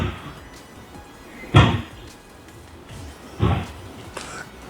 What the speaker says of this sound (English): quit wiggling that goddamn doorknob